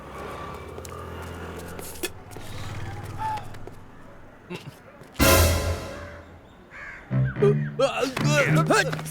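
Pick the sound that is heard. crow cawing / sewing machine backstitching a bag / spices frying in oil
crow cawing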